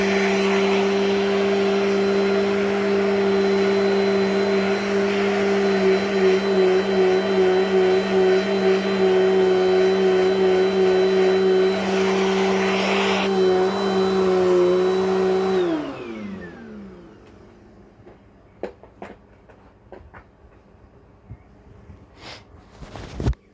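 A Dirt Devil Dynamite Plus vacuum cleaner roars loudly and steadily with a strong motor whine for about fifteen seconds, then winds down and switches off, leaving near silence broken by a few faint clicks and knocks.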